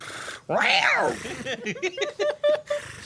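A loud, rising-and-falling cat meow, followed by a series of short, chirpy squeaks and trills, close and clear.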